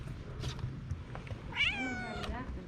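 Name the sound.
skinny cat meowing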